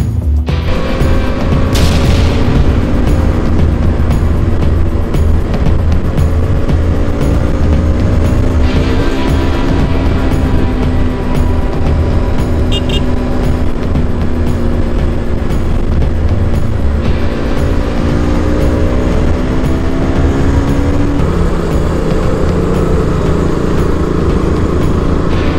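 A KTM Duke 200 motorcycle on a test ride in the Philippines makes a loud, continuous engine drone. Its pitch climbs and drops as it revs and shifts, with wind rush mixed in throughout.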